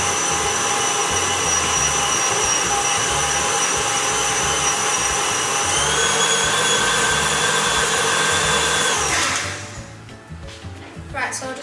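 An electric mixer beats chocolate chip banana bread batter with vanilla bean paste, a loud, steady whirring drone that runs continuously for about nine seconds before cutting off, leaving quieter kitchen noise.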